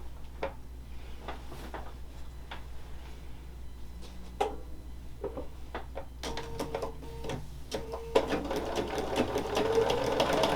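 A sewing machine stitches a 1.5 by 11 inch quilt strip onto a pieced block under a steady low motor hum. Its rapid needle ticking starts sparse, then turns denser and louder toward the end, with no voices.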